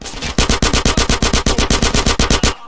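Rapid automatic gunfire in GTA San Andreas during the Reuniting The Families mission, a steady burst of about fifteen evenly spaced loud shots over roughly two seconds, close and dominant with no talk.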